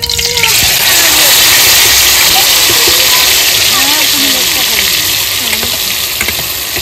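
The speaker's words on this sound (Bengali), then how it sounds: "ফোড়নটা ভেজে নিয়েছি, মাছগুলো দিয়ে দেবো" Hilsa fish frying in hot oil in a wok after a nigella seed tempering, giving a loud, steady sizzle throughout with a faint voice talking over it.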